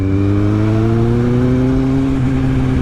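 A Kawasaki Z750 motorcycle with a Delkevic exhaust drones loud and close, its steady tone rising gradually in pitch as the throttle is held open.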